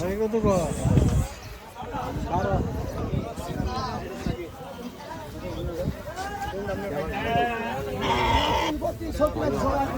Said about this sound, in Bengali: ছাগল, ভেড়া,